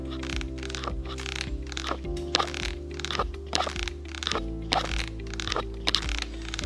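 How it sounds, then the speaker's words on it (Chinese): Bicycle headset creaking as the lifted front end and handlebar are turned, producing repeated close, dry crackling creaks in an irregular rhythm. "这一辆车在转动的时候会有嘎吱嘎吱的声音。"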